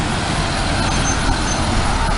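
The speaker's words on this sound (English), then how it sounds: "Here comes a bus" A city bus on a street rolls by close and loud, a broad steady roar of engine and road noise with faint traffic around it.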